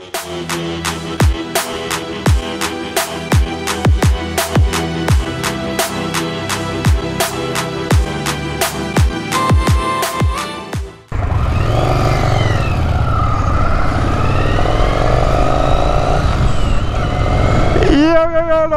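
A Yamaha Virago 1100 chopper motorcycle is ridden, first thumping in sharp repeated bursts as the throttle is blipped, then a steady loud engine drone with wind rushing past.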